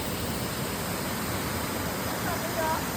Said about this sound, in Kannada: ನೋಡಿ, ಫೈನಲಿ ಫಾಲ್ಸಿಗೆ ರೀಚ್ ಆಗಿದ್ದೀವಿ